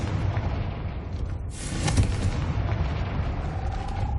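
The Confringo blasting spell in the Hogwarts Legacy video game lands as a single sharp burst near the middle, over a continuous low rumble, followed by a faint rising tone.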